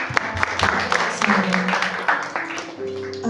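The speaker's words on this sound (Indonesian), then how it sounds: "Sekali lagi saya boleh minta tepuk tangannya" Scattered applause from a youth Christmas praise and worship gathering, clapping under music and voices, moderately loud and brief, thinning toward the end.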